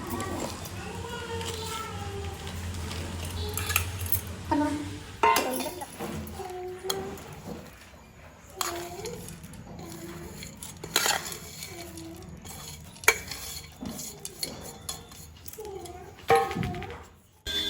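A spoon clinks and scrapes against a bowl repeatedly while mixing mawa filling for gujiya, with people talking in Hindi throughout and children's voices in the background.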